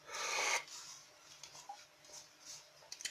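Paper being folded into an origami boat, with a loud crisp crease and rub at the start, then soft scattered rustles and light taps close by.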